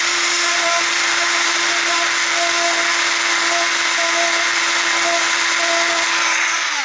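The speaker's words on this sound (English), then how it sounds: "I just use the drill to open up the 2 holes into one slot" An electric drill runs steadily at a high pitch for several seconds, loud and close, with no voices.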